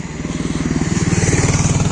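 A green 2023 Jawa 42 motorcycle with a 27 PS engine runs close by, a fast, even pulse of exhaust thumps that grows slightly louder and quicker, with no voices over it.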